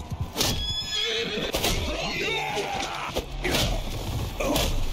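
Horses whinny and neigh several times amid a battle in the video game Mount & Blade II: Bannerlord. The loud, close cries are mixed with hoof clatter and the sharp knocks of combat.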